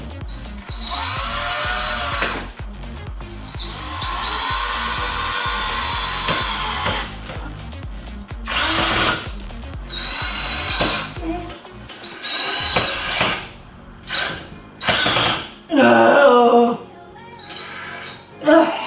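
A power drill whirs in repeated bursts as it drives screws into wood, with pauses between runs and voices talking at times.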